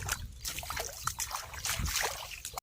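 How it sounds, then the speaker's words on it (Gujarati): Irrigation water trickles and sloshes steadily into a sorghum field on a farm, a continuous close splashing flow with no voices. "પાણી જાય છે જુવારમાં"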